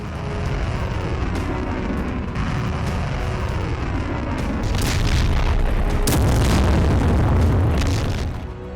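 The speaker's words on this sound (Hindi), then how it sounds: "यमन की सेना की तरफ से हाइपरसोनिक मिसाइल का वीडियो जारी किया गया है।" A Houthi Palestine 2 hypersonic missile launch gives a loud, continuous roaring rumble that swells and intensifies partway through, with a sharp crackling burst, then holds steady at full force.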